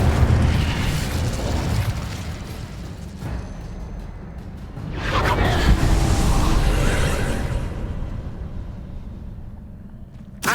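Confringo and Incendio spell blasts boom and burst in Hogwarts Legacy, a series of loud explosive impacts with a big swell midway through, fading out near the end.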